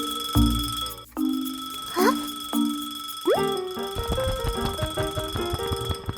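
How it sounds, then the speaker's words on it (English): A cartoonish alarm clock rings in several short repeated bursts, then light bouncy music takes over. "Suddenly, the clock starts ringing loudly."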